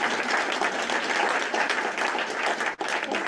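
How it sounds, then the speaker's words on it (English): Audience round of applause at a real estate training session, dense steady clapping filling the room for about three seconds with a brief dip near the end. "Let's give her a round of applause."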